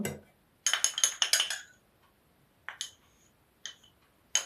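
A spoon clinks against a bowl while starch is stirred into beaten egg and sugar, with a quick cluster of bright metallic taps, a pause, then a few scattered single clinks, close and distinct.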